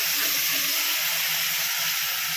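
Tomatoes sauté with salt in a pan, producing a loud, continuous hissing sizzle that holds evenly from start to finish, with no talking.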